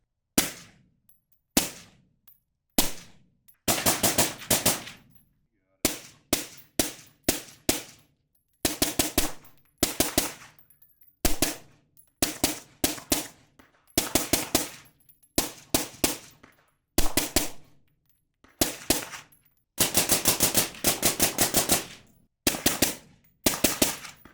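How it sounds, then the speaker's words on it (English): Repeated suppressed gunshots from a rifle fitted with a C.A.T. Kitty Kat suppressor at an outdoor range, fired as single shots and quick strings of rapid fire, loud and close with short gaps between bursts. "I'm gonna shoot a little bit more, put some rounds down range."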